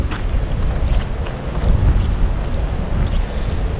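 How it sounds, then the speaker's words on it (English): Strong wind buffets the microphone at a lakeside tent campsite on Lake Carlos, a steady, loud rumbling roar that fills the whole stretch with no talking. "It is going to be kind of breezy today, evidently."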